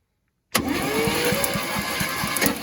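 The engine of a 1963 International Loadstar 1800 truck cranks after a sudden start, a steady rhythmic chugging of the starter turning the engine over, close and loud, with no catch.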